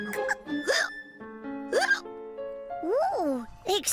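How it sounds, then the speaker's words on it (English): A child in the cartoon Horrid Henry hiccups several times, each hiccup a short, squeaky vocal jolt between stretches of sung or spoken voice, close and clear. "I've got hiccups."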